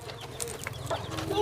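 Chickens cluck and chatter steadily in a rural Thai village yard, several short repeated calls close by over a busy, continuous background.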